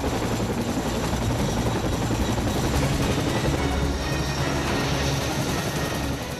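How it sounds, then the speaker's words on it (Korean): A military helicopter arrives for special forces high-altitude training, its loud rotor thumping and turbine whine filling the air steadily and close by, with no voices. "드디어 고공 강화 훈련을 위해 헬기가 도착했다."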